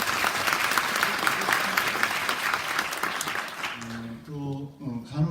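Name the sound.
applause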